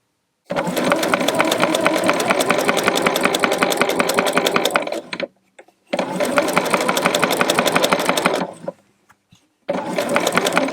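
A domestic sewing machine runs a smock stitch on elastic fabric in three steady, fast-buzzing bursts of several seconds each, separated by brief pauses, with no talking.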